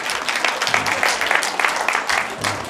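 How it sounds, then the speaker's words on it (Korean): An audience at a workplace safety training session applauds, a dense steady patter of many hands clapping together at moderate distance, lasting a few seconds without a break. "박수 쳐줘야지"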